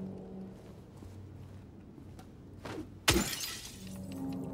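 A single window breaks in the video game Silent Hill 2, a sudden loud shattering crash with tinkling debris after a stretch of low, quiet ambience.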